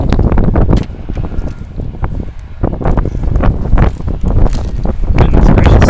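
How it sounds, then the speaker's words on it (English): Strong outdoor wind buffeting the microphone during an outdoor workout, loud and continuous with gusty rumbling surges and rustling, no speech. "the wind just wants to blow my stuff away"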